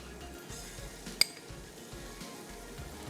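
Masala and chicken frying in a pan for white biryani, a low steady sizzle with stirring scrapes and one sharp metallic clink of a utensil against the pan.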